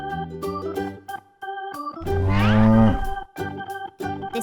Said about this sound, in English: This is a cow.